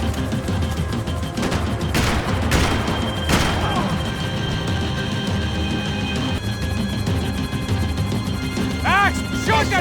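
Max Payne 3 gameplay fills with dense, loud gunfire, sharp cracks and heavy impacts over a constant roar of action, with shouted voices mixed in.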